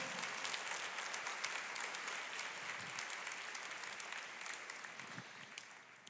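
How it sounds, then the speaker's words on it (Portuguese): A congregation applauding at a church conference, sustained dense clapping from many hands that holds steady, then gradually thins and fades toward the end. "Você pode aplaudir o Senhor?"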